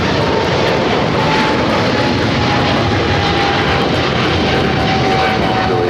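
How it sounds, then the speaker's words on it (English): A China Eastern Airlines Boeing 777-300ER jet roars loudly and steadily close by at LAX, its engines giving a continuous broadband blast with a faint whining tone through it. "China Eastern Airlines Flight 586"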